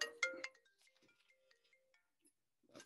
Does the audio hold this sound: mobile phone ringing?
yes